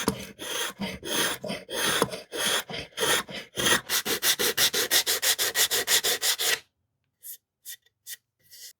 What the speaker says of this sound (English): It's too tight, so I'm just gonna have to shave off a little bit with my spoke shave.